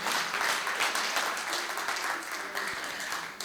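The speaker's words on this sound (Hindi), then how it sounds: "एक बार जोरदार तालियां बजाइए" Loud, sustained audience clapping at a kavi sammelan poetry gathering in Rohtak, a dense wash of many hands that slowly tapers toward the end.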